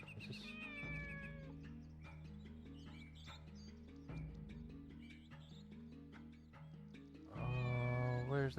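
A small kitty meows in Shenmue on the Dreamcast. Near the end a close, loud, wavering meow bursts out, following a long stretch of looping game music with faint chirpy cries.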